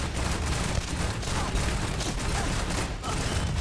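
Grenade launcher fire in the Starfield game, a dense barrage of booming blasts and rapid gunfire running continuously at close range with little pause.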